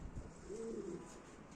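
A pigeon gives a soft, low coo close by, one short rolling call against a quiet background.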